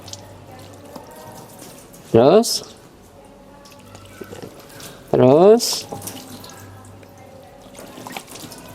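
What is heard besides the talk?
water being poured over a body during ritual washing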